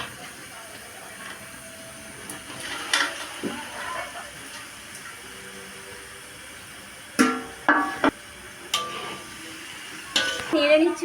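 Leafy greens stirred in hot spiced oil in a pan, a soft sizzle under intermittent spatula scrapes and clanks against the pot, a few sharp bursts of stirring standing out.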